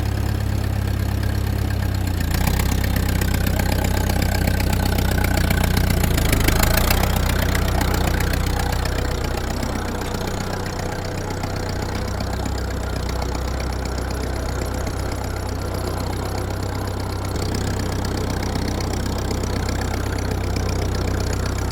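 A tractor engine idling steadily nearby, a continuous low rumble that swells briefly then settles into an even drone with no talking.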